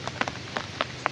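Rain falls onto an umbrella as a steady hiss broken by scattered, irregular taps of drops, fairly soft and close.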